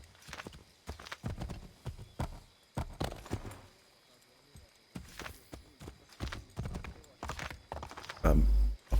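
Horse hooves clip-clop in Assassin's Creed 3, a run of uneven, fairly close thuds scattered through the stretch while someone talks over the game sound, ending in a loud burst.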